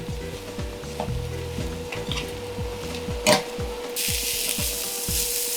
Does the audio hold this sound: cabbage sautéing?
yes